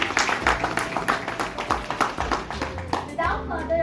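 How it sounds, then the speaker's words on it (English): An audience at a corporate panel discussion breaks into brisk applause for the panel guests, dense hand claps over a few seconds with voices mixed in. "A big round of applause for them."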